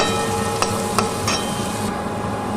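Tomato with cinnamon, slit green chillies and salt frying in a pan, a steady broadband sizzle with a few sharp clinks of a spoon being stirred against the pan, close and continuous with no talking.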